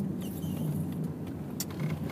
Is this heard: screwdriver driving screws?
no